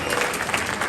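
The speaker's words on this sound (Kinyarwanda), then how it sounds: "amashyi menshi" A congregation in a church breaks into steady, dense clapping, a brief burst of applause that fills the whole moment.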